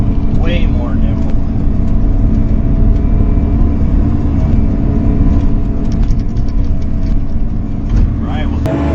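A Bobcat excavator and a tractor run together while grading ground by a duck pond, a loud, steady low diesel engine rumble close by, with someone talking over it.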